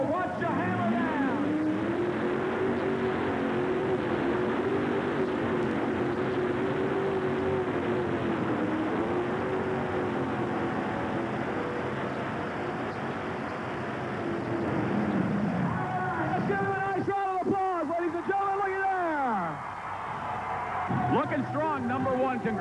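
A pulling tractor runs at full throttle during a Red Man tractor pull, its engine roaring steadily and then rising and falling in pitch near the end while an announcer talks over it.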